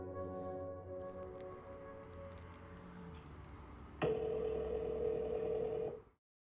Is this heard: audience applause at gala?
no